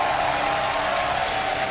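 A large esports tournament crowd applauds steadily at a StarCraft 2 grand final, a dense, even wash of clapping that holds at full level throughout.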